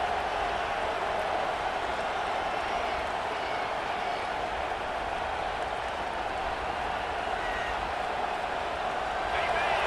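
Stadium crowd at a Clemson college football game roaring steadily on fourth down, a dense unbroken wall of cheering and noise with a commentator talking over it.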